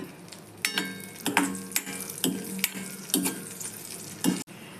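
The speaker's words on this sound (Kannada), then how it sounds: "ಈಗ ಈ ತುಪ್ಪದಲ್ಲಿ ಗೋಡಂಬಿ ದ್ರಾಕ್ಷಿ ಹೊರ್ಕೊಳ್ಳೋಣ ಗೋಡಂಬಿ ಸ್ವಲ್ಪ ಕೆಂಪಾಗುವಾಗ ದ್ರಾಕ್ಷಿ ಹಾಕ್ಕೊಳ್ಳಿ" Cashews and raisins fry in ghee, a soft sizzle under repeated clinks and scrapes of a spoon stirring in the pan, close by and fairly quiet.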